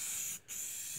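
Rust-Oleum 2X gloss deep blue spray paint hisses onto a metal shop toolbox in two close, steady bursts split by a brief pause, with no voices.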